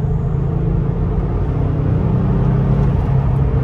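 A turbocharged car pulls steadily in fourth gear, a loud, continuous engine drone and road rumble heard from inside the cabin with no talk.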